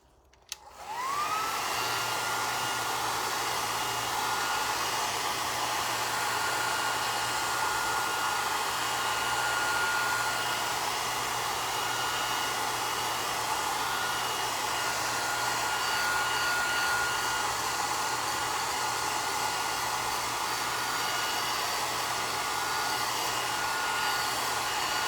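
A hair dryer blows on an alcohol ink flower painting, a steady loud whirring roar with a high whine that holds unbroken for about 25 seconds after it switches on.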